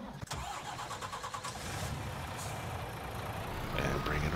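A truck engine in Farming Simulator 19 cranks and catches, then settles into a steady mid-pitched idle with a slight rise in loudness near the end, heard up close.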